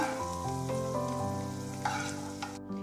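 Raisins frying in ghee in a pan, a steady soft sizzle with light stirring scrapes throughout, close and alone with no talk.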